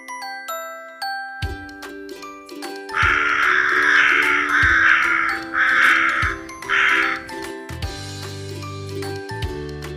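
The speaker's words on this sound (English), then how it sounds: "This is crow." A crow caws loudly four times in a steady rhythm, close and clear, over a light chiming children's tune with no talking.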